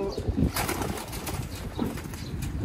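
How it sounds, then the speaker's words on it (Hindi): Pigeons cooing in low, throaty tones amid a busy, noisy backdrop, with occasional bursts of fluttering wings. "हमाद भाई इनमें से कौन सा कबूतर मैं पकड़ूँ?"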